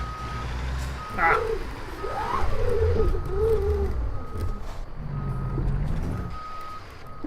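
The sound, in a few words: truck reversing beeps while parking, video game American Truck Simulator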